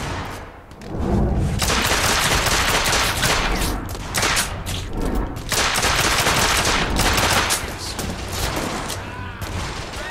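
Hip-fire shooting in The Order 1886 comes as loud, sustained volleys of rapid shots, with brief pauses between dense bursts and booming hits mixed in, and faint voices in the background.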